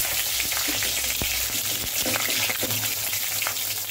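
Cinnamon, cloves, fennel and green chilies fry in hot oil for a spicy macaroni masala, a loud, dense sizzle close by with scattered sharp pops and crackles, no voices over it.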